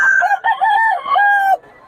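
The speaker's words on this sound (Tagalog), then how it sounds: "Ito yung murang mga manok ni Boss Dada mga idol." A rooster at a poultry seller's place crows close and loud, a single drawn-out call broken into several strained segments before it trails off, with no voices.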